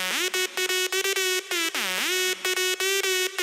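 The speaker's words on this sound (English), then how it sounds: "this is the sound of the lead with everything on" A bright, buzzy synth lead processed through a full Logic Pro channel strip plays a choppy melody of short stabs and sustained notes, with pitch glides into some notes, loud and up front.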